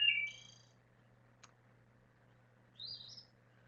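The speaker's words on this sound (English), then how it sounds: "And you can hear we're out here in the woods. The birds are quite happy today, aren't they?" Birds sing in the woods, with two clear, high chirping phrases, one at the start and one near the end, and a single sharp click between them, all over a quiet, steady low hum.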